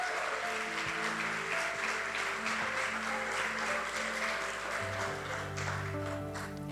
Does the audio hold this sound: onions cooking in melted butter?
no